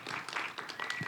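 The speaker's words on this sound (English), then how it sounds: "If everybody could please give them a round of applause." A short, faint burst of audience applause, with scattered clapping from many hands.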